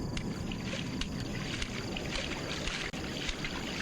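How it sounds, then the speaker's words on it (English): Small rowboat drifting on a tiny body of water in the horror game Fears to Fathom: Ironbark Lookout, steady broadband wash of water and wind with faint scattered knocks, no voices. "It's a really tiny boat you got out here for this tiny little body of water."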